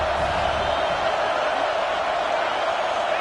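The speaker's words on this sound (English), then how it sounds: "how nice is it to have the home crowd going absolutely bananas?" A home football crowd roars in a steady, dense wash of cheering and shouting that holds at full volume throughout, with no single voice standing out.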